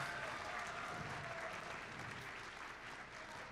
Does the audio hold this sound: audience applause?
yes